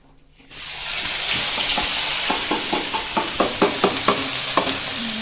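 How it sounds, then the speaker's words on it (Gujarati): Chopped onion hits a hot pan for pav bhaji with a sudden loud sizzle that holds steady, while a spatula scrapes and stirs in a quick regular rhythm of about a dozen strokes. "બસ હવે ડુંગળી નાખી દે."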